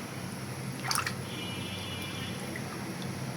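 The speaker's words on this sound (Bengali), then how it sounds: "তো ডালগুলো এখন ধুয়ে বসিয়ে দিব।" Lentils (dal) being washed in water give off a soft, faint swish and a brief splash near the start, then a quiet trickle, with no talk.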